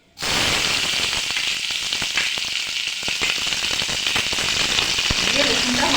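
Chopped garlic dropped into hot oil bursts into a loud, continuous sizzle that starts abruptly and holds steady throughout, close up, with faint talk toward the end.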